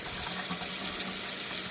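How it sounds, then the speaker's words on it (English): Hot water runs from a sink tap supplied by a 6-gallon GE mini-tank electric water heater, a steady, close splashing rush into the basin, continuous and without talking. "this is the hot water from the sink"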